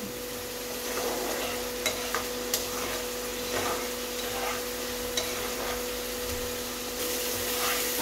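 Spice masala with salt and a pinch of sugar being sautéed in a pan, a steady hiss and sizzle with occasional sharp spatula clicks and scrapes over a constant low electrical hum.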